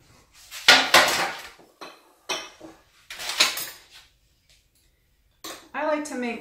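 A metal baking pan for chocolate chip cookies is grabbed and handled, giving a few clattering metallic clanks and scrapes in separate bursts, with a person talking briefly near the end.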